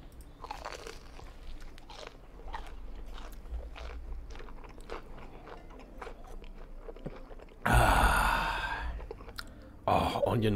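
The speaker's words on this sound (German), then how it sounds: "Ich habe ein Käsesandwich gegessen." Crunchy chewing and biting as a cheese sandwich is eaten in the horror video game Fears to Fathom, with a steady run of close, moist crunches, then two louder bursts of crunching near the end.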